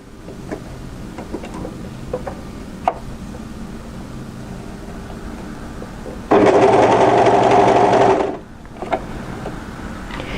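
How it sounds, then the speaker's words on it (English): An overlocker runs in one steady, loud burst of about two seconds, stitching firm dress fabric together, with quieter handling clicks and rustles before and after. "So when you're ready, overlock that together"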